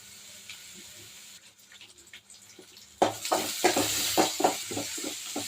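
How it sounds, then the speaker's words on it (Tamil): Big onion and curry leaves tossed into hot oil in a kadai, starting quietly then bursting into a loud, bright sizzle with rhythmic stirring scrapes and crackles about halfway through. "ஒரு பெரிய வெங்காயம் கருவேப்பிலையும் போட்டுக்கிறேன். இது தாளிச்சிக்கலாம்."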